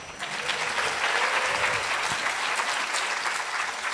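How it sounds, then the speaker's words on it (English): Lecture hall audience giving a round of applause, a full, sustained burst of many hands clapping close and loud for the whole stretch, without talk. "so let's give her a round of applause."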